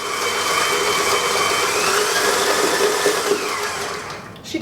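An electric mixer whirs steadily and close as it blends cinnamon into cream cheese buttercream for a pumpkin layer cake, a continuous motor hum that winds down at the end.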